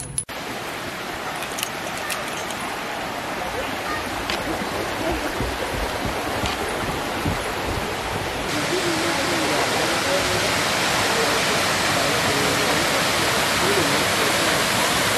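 Waterfall roaring as a steady, dense wash of broadband noise heard close by, growing a little louder partway through, with brief faint talk mixed in.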